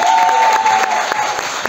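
An audience claps at a drag queen casting for a Latin American nightlife show, a short loud burst of applause with a steady high tone running underneath.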